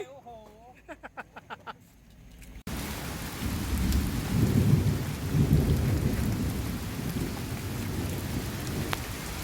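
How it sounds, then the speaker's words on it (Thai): On a mountaintop during a rescue mission, someone talks briefly before heavy rain suddenly takes over, with drops pattering densely on a nearby surface and low thunder rumbling underneath for several seconds. "โอ้ฝนตก"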